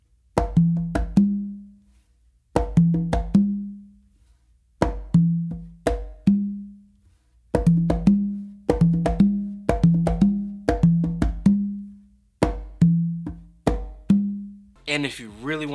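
Slappy three-drum conga exercise with sharp open and slap strokes moving across the drums, played in repeated short phrases separated by brief pauses, loud and close, with a quick burst of noise at the very end.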